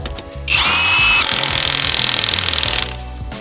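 A Harbor Freight Hercules impact wrench runs loud and close on lug nuts in one sustained burst of about two seconds. The whine turns to a fast rattling hammer as it drives the nuts on, then spins down with no voices.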